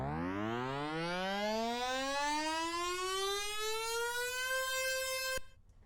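A pitched synth riser made in Logic Pro X, sped up so it sweeps steadily upward in pitch over several seconds, loud and alone, then cuts off abruptly near the end.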